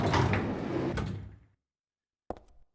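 In the Silent Hill 3 video game, a door opens with a dull mechanical rumble that fades into silence, then a short sharp click or latch near the end.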